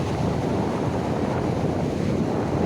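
Ocean surf at Niladri beach in Puri rolls in a steady, dense wash of waves, loud and close, with wind buffeting the microphone throughout and no voices.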